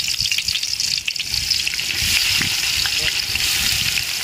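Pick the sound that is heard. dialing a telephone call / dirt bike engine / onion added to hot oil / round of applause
onion added to hot oil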